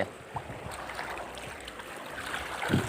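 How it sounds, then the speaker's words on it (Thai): Released water flows steadily in an outdoor fishing channel, producing a continuous rushing wash with a few splashes, fairly close and with no talking. "จังหวะปล่อยน้ำออกกันแล้วเนาะน้ำไหล"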